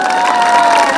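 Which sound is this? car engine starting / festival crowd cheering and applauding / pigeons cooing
festival crowd cheering and applauding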